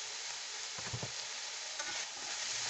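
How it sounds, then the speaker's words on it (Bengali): Spice paste of ginger and garlic with salt and chili flakes sizzles steadily in a pan, a constant frying hiss with a few soft stirring scrapes partway through. "এবার মশলাটাকে ভালোভাবে কষিয়ে নিয়ে তারপরে আমি একটু ফ্রাই টাইপের হয়ে যাওয়ার পরে আমি এর মধ্যে জল দেবো"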